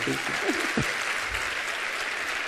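An audience at a book festival applauds cartoonist Erdil Yaşaroğlu, a dense, steady wash of clapping filling the whole moment, with a brief voice at the start.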